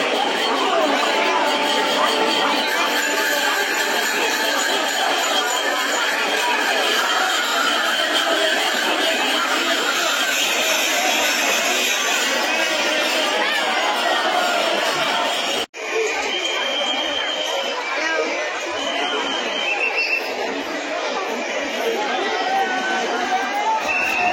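Huge dense crowd of pilgrims packing Tarakeswar railway station during the Tarakeswar Yatra on the third Monday of Shravan, a continuous loud roar of many overlapping voices, chatter and shouts, steady throughout with a brief dip near the end.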